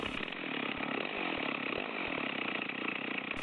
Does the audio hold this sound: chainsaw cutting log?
yes